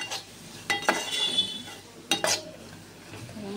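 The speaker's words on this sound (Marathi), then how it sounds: "मसाला टाकला की थोडा 1 मिनिटभर परतायचा।" A spatula stirs homemade masala spice mix being fried in a pan for a spicy village-style egg curry, giving a few close scraping clinks against the pan over a faint low sizzle, with no talking.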